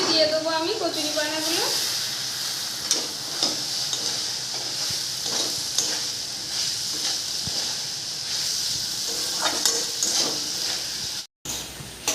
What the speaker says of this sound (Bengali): এটা ভালো করে এবার কষে নেবো